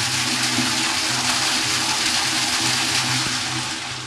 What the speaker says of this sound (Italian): vi faccio sentire il rumore dell'acqua che comincia a muoversi